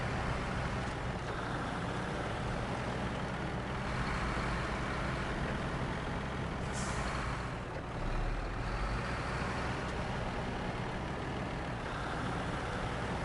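Truck engine in the SnowRunner video game, a loud continuous low rumble and drone with a brief hiss of air partway through, steady throughout.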